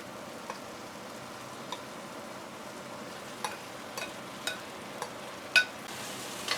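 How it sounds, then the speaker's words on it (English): Venison pieces frying over high flame in a pot with tomatoes and spices, a soft steady sizzle with occasional faint ticks and clinks of stirring, quiet and continuous. "Fry them on high flame for a few minutes. Keep stirring to coat all the meat pieces with the spices."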